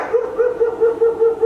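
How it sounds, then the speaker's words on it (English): Dogs barking from a training sound recording, a steady series of about seven evenly spaced barks over a second and a half, with a clear, moderately loud tone. "this next one is going to be sounds of dogs barking"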